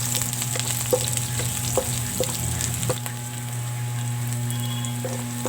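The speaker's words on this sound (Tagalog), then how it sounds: "Onion slice ahos at bumbay pa lang ang ginigisa ko" Sliced garlic and onion sauté in a pan for chicken tinola, a steady close sizzle with a few soft stirring taps and a low hum in the background.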